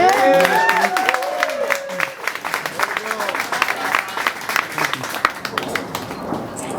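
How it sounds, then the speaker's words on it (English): Clapping and some cheering from a crowd of guests at an anniversary party, a steady burst of applause for the cook that stays fairly loud throughout, with a few voices mixed in. "so a nice round of applause for Rob"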